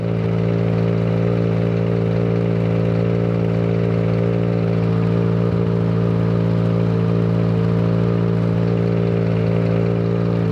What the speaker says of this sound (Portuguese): A galera tá passando de moto lá, ainda tá.